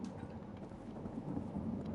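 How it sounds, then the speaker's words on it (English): Low, rolling thunder from a Fallout 4 storm after a lightning flash, a steady, moderately loud rumble with a faint rain-like hiss that swells slightly toward the end, with no talking. "Oh, saw a lightning flash. That thunder will come in about 5, 4,"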